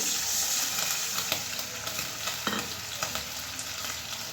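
Steady loud sizzling of figs frying in a pan as slit green chillies and a splash of water go in, with occasional stirring scrapes and no talking.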